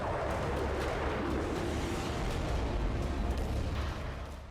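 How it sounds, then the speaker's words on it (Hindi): A deep, sustained roar of a powerful explosion or blast rumble, loud and continuous, fading slightly at the end. "इतना ताकतवर धमाका और विनाश को आमंत्रण देने वाली इस आग"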